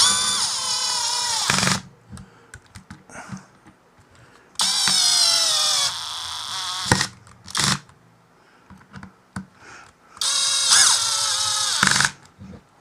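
A power screwdriver whirs in three bursts as it tightens screws, separated by quieter clicks and handling noises, with no voices.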